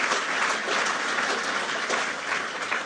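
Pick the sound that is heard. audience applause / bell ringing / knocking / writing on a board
audience applause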